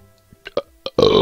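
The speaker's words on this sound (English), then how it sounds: "Oh, burping." A loud, drawn-out burp bursts in at the end after a few short scattered noises, heard while a group plays Golf With Your Friends.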